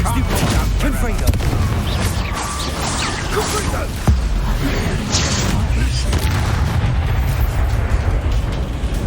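Spell blasts and booming impacts from a Hogwarts Legacy final battle against Rookwood, with the Confringo fire spell among them, form a dense, loud, continuous rumble of explosions and crashes, with a sharp burst near the middle.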